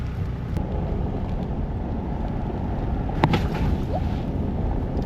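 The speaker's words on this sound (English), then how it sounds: "damn, it is getting windy" Strong wind roars steadily across a campsite as a storm moves in, a dense, unbroken rumble of gusts buffeting the microphone, with a brief sharper knock partway through and no voices.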